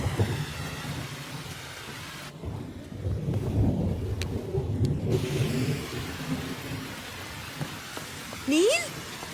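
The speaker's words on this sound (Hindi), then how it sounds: "I just love the rain" Steady rain pours down outdoors with a continuous hiss and patter, a soft low rumble beneath it, and a brief rising squeal near the end.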